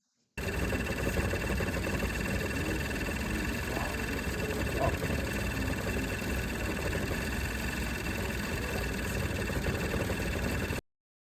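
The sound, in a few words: car engine running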